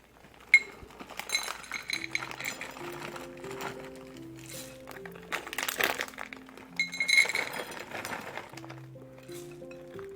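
A cup and a half of semi-sweet chocolate chips tumbles into a bowl of whole wheat oatmeal cookie dough, giving a few scattered clinks and rattling bursts under steady background music.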